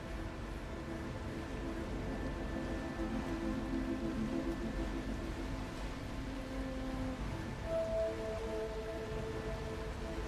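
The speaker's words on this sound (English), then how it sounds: "Usually it rains every damn day in this game." Steady rain falls in The Last Caretaker video game, an even, continuous hiss with a faint low hum and soft tonal game sounds running underneath throughout.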